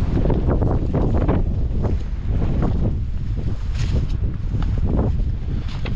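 Strong storm wind in a village vegetable garden buffets the microphone in loud, continuous gusts, with a low roar that swells and eases throughout and no voices.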